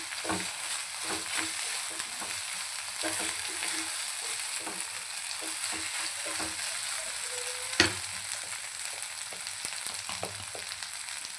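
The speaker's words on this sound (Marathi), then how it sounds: "छान अद्रक लसणामध्ये याला परतून घ्यायचं आपल्याला" Mutton mince frying in ginger garlic paste for Mumbai-style keema pav, a steady close sizzle with scraping stir strokes from a spoon against the pan and one sharp clink, no talking.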